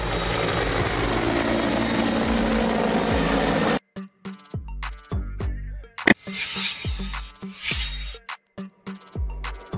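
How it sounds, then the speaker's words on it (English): A firefighting helicopter, a type fitted to carry water or fire retardant, gives a loud, steady rotor and engine roar for about four seconds, then cuts off abruptly into rhythmic music. "Firefighting helicopter, a helicopter used for firefighting, typically equipped with water or fire retardant materials."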